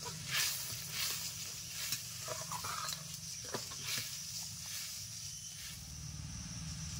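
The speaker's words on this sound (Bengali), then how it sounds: "দেখো ঝোলটা টকবক করে ফুটছে" Pabda fish jhal curry gravy simmering in a pan after water and a pinch of sugar are added, giving a steady close hiss and sizzle of bubbling liquid throughout with no talking.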